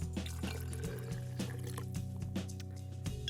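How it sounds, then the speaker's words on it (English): Water is poured into a jar holding vinegar and rusty nails, a quiet splashing trickle with light clinks over a low background hum. "and then add some water."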